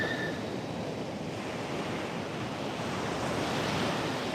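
Ocean surf washing onto a beach at sunrise in the Hamptons, a steady, continuous broadband roar of breaking waves with some wind noise on the microphone, fairly loud and unbroken throughout, with no talk.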